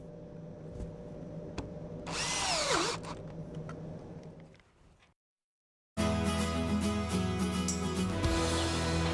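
A power drill with a drill guide whines steadily at close range, briefly dropping to silence before spinning up again into a loud, continuous grinding bore.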